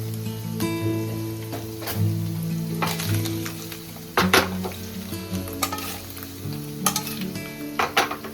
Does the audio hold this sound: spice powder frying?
yes